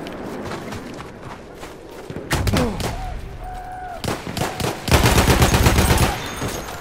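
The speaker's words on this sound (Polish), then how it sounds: "słyszałem strzały" Gunfire in the video game Battlefield 1: scattered single shots give way to dense bursts of automatic fire, loud and close, mixed with footsteps and battlefield clatter.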